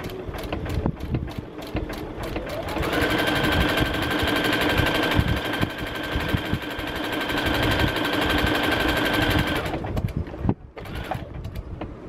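A sewing machine stitches fusible applique in a steady whirring run of about seven seconds, with a faint high tone, framed by quieter handling noises before and after.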